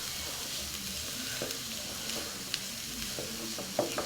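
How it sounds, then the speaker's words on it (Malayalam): Shredded cabbage sautéing in a pan for cabbage thoran with ground green chili, a steady soft sizzle broken by a few light scrapes and taps of a stirring spoon, close and continuous without talk. "ഇനി നമുക്കിതിനൊന്ന് വഴറ്റിയെടുക്കണം"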